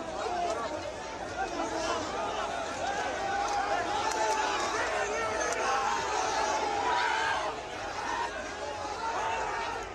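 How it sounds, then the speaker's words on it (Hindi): Dense crowd commotion during the Congress Nyay Yatra rally in Assam: many voices shouting and clamoring at once in a continuous loud uproar that holds steady throughout, with no single speaker standing out. "जिसके बाद उपद्रव हुआ"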